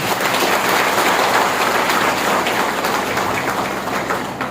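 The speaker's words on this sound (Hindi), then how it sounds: "एक बार जोरदार ताली अपने लिए हो जाएगी।" A large crowd of women at a district conference claps loudly, a dense, sustained roar of hands that stays strong throughout and eases slightly near the end.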